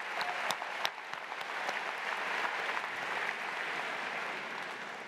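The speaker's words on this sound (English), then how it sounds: "so give yourselves a round of applause." An audience at a university convocation claps, a few sharp nearby claps at the start swelling into steady applause that continues evenly without speech.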